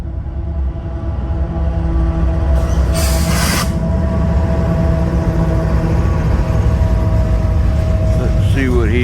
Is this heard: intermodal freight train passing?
yes